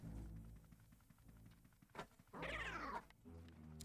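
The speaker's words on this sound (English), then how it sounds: "Oh, the cats are fighting." Cats fighting in a video game, a short yowling screech about half a second long, preceded by low rumbling game sounds and a soft thump.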